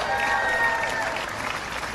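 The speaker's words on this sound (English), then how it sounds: "Give yourselves a round of applause for that." Outdoor crowd applause at a Labor Day parade rally in Pittsburgh, dense clapping with cheering mixed in, loud and sustained, with whistles and voices rising over it.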